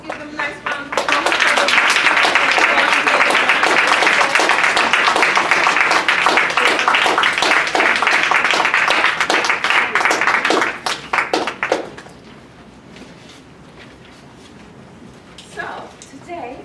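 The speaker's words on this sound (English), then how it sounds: "Let's give them a nice round of applause." An audience at a student leadership workshop gives the wait staff a round of applause: loud, dense clapping for about eleven seconds that fades out, followed by a quieter room with a brief voice.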